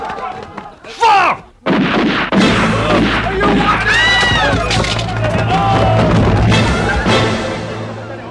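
A loud gunfire volley from a period costume drama scene, several sharp shots ringing out, then sustained rumbling gunfire with crowd hubbub and shouting beneath it.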